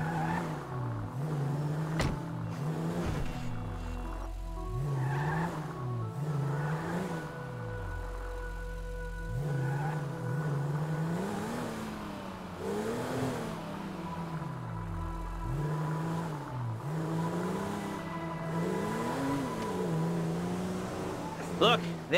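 A car in GTA 5 drives around a city block, its engine rising and falling through repeated gear changes and accelerations, moderately loud over a quiet game backdrop, with characters talking at times.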